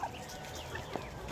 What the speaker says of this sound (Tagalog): Grabe kadaming pato oh.